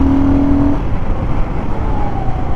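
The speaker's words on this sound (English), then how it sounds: "I'll just speed up" A Royal Enfield Guerrilla 450 motorcycle speeding up on the road, its engine note loud and close with a rising pitch as it accelerates, heard alone without talk.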